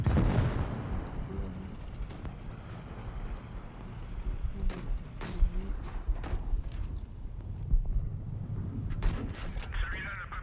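Tank cannon shots in the World of Tanks video game: a few sharp, booming blasts punctuate a continuous rumbling battle ambience, with faint background noise between firings.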